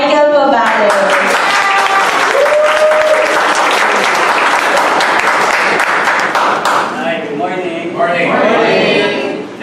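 An audience breaks into loud, sustained applause to welcome a speaker, dense clapping mixed with cheers and whoops, fading slightly near the end as voices rise.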